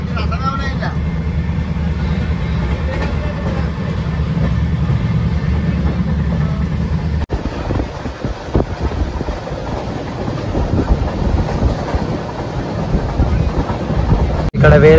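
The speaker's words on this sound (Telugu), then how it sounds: "ఈ ట్రైన్ సౌండ్ వలన వాయిస్ వినబడుతుందో లేదో" A passenger train from Ramagundam to Kerala runs on its tracks, a loud continuous rumble with rhythmic clickety-clack and wind buffeting, heard from inside while people talk over it.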